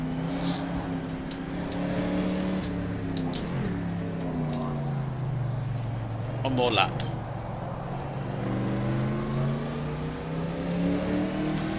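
A Group 6 sports car in the rFactor 2 racing sim revs hard and steadily, its engine pitch climbing and dropping as it works through the gears and corners, while someone talks over it.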